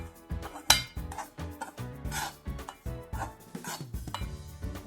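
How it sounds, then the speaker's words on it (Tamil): Rava (semolina) is roasted in a pan over a medium flame with a spoon stirring it, giving a close, irregular run of scrapes and metallic clinks against the pan. "ஒரு 2 நிமிஷம் மீடியம் ஃப்ளேம்லேயே வச்சு இப்படி வறுத்துக்கோங்க."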